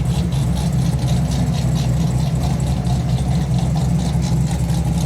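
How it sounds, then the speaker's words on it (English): A Corvette C6 with a V8 idles nearby, giving a loud, steady, deep burble that holds evenly with no talk over it. "Dang, dude, that C6 sounds insane"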